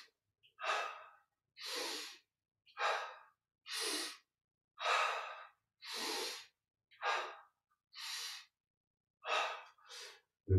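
A series of ten slow, even exhalations during a yoga breathing exercise, each a soft airy breath out separated by short silences, close and clear with no talking.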